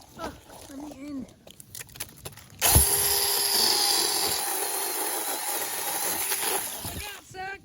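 A power tool, apparently cutting a tree outdoors, starts abruptly after a few moments of quiet and runs loud and steady for several seconds before tailing off, with a person's voice heard faintly before it starts.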